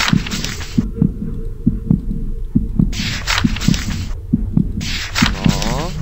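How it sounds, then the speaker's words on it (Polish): Heartbeat in the horror game The House 2, a steady thumping double pulse repeating roughly every half second, loud and close, over bursts of harsh noisy ambience that start and stop. "Bicie serca."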